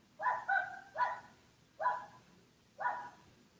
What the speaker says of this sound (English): I love the chorus of the dog.